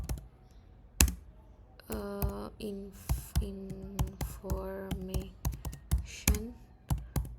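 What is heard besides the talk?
typing on a computer keyboard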